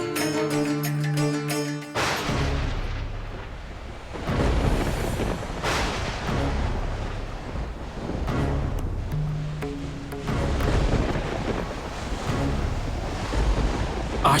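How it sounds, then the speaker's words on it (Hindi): A sudden storm roars in with loud, steady gusting wind and crashing waves. A brief musical tone plays first, then the storm noise surges and swells continuously, with no speech. "आश्चर्य है, अचानक ये तूफान कैसे शुरू हो गया?"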